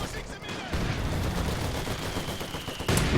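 Grease gun submachine gun fire in a World War II shooter video game, dense overlapping bursts of gunfire rattling continuously at close range amid battle noise, with a louder burst near the end.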